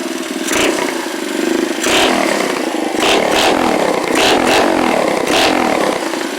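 A Honda Trail 70 restomod motorcycle with a relocated engine runs loud and close, its buzzy engine surging in repeated revs with short dips between throttle blips.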